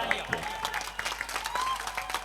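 Audience applause at a Hindi-Urdu mushaira poetry recital in Ludhiana, a fairly faint, steady patter of clapping with scattered sharper claps, mixed with some murmuring voices throughout.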